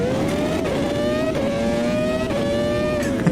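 A V10 Formula 1 car in Automobilista 2 screams at high revs, a steady, loud, close engine howl with a bright pitch that dips slightly at each gear change.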